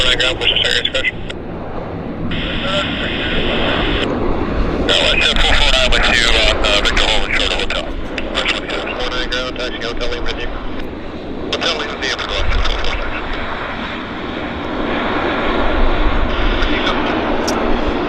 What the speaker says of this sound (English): our Q400 is landing, so I'm going to see if we can at least get the rollout for it